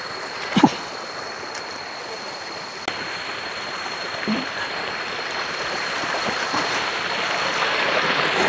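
Flowing water at Blue Lagoon in Kaybiang, Ternate, Cavite, a steady rushing stream wash that grows slightly louder, with a few brief knocks and splashes early on.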